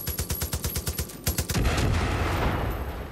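Gunfire in the video game Far Cry 5 starts as a rapid string of about a dozen evenly spaced, punchy shots. It then breaks into a loud, sustained rumbling blast that slowly fades.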